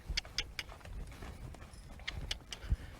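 A horse's hooves clop on the ground during groundwork training, several clear, evenly spaced steps, close and moderately loud, with no talking over them.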